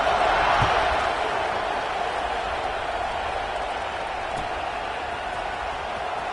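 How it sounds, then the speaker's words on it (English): Stadium crowd in a college football video game, a steady, dense buzz of distant cheering and chatter filling the background at an even level. "this crowd is buzzing after that last score"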